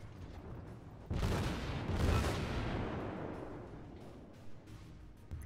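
Naval gunfire striking a ship in the World of Warships game, an abrupt heavy blast followed by a roaring, crackling rumble that slowly fades over several seconds, with no speech.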